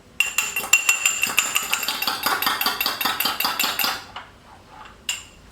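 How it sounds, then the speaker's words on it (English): A fork whisks a cracked egg against a bowl, giving a fast run of about twenty sharp metallic clinks in a steady rhythm. It stops abruptly, then one last tap follows after a short pause. "We also have to prepare our egg. I've cracked it already. So we just have to beat it up as you would do for a scrambled egg."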